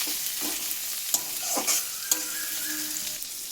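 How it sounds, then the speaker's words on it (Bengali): A single large tomato hits hot oil with a grated paste in a home kitchen pan, giving a steady, close sizzle broken by a few clinks and stirring scrapes, with no voices. "টমেটোটা দিয়ে দিলাম।"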